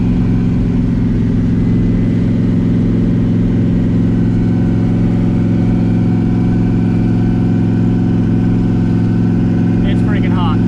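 Turbo LSX-swapped Mazda RX7 with a Powerglide transmission, driven down the road: a steady low engine drone with strong harmonic hum throughout, cruising without big revs, loud and close from inside the car.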